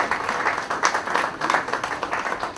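Audience applause welcoming a guest at a Delhi University event, a short burst of brisk, fairly loud clapping from a room of people.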